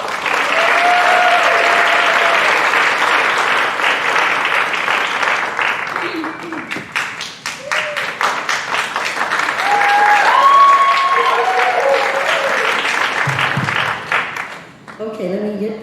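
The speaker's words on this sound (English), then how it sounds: "So let's go ahead and give them a round of applause." Loud, sustained applause from a concert audience for the performing musicians, filling the room with dense clapping that swells and then fades near the end, with cheers and voices mixed through it.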